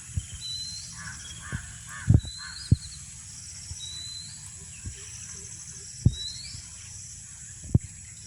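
Birds call at a natural outdoor spot, short faint chirps and whistles scattered across the clip, with several sharp knocks or taps punctuating a quiet background.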